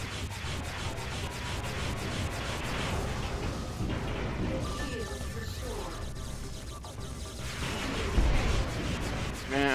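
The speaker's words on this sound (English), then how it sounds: "It's a flak cannon or something. I hear it. It's going boom." Repeated booming flak cannon fire in the space combat game Freelancer, with the Crossfire 2.0 mod, thudding steadily amid dense battle noise and effects.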